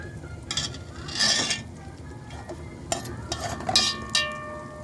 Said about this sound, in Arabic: هنحمر شويه لسان العصفور